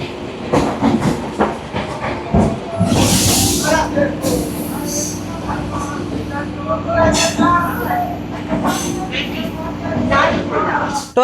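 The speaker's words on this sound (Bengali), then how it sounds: "পাশেই দাঁড়িয়ে আছে লালগোলা ট্রেন" The Lalgola train stands at Lalgola station, the last stop of the Sealdah division, with rumbling rail and station noise, a hiss of air and clanking, under a nearby voice talking throughout.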